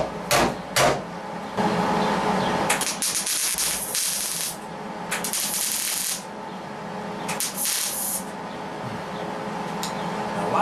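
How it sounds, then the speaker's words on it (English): Tack welding on the front fender lip of a 1960-66 Chevy truck during rust repair, several short bright buzzing bursts of a few seconds each, separated by quieter gaps with a few metallic clicks. "So what we'll do is just slowly roll it over, tack welding while we go."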